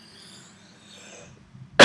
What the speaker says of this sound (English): Sorry, just clearing my throat.